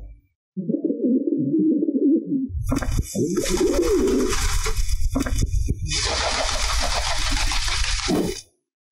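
A wild pigeon gives a low, rolling coo, close and clear for a couple of seconds, followed by louder broadband noise and rustling that bury the bird.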